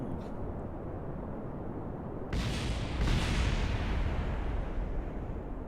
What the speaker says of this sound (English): we need to see the explosion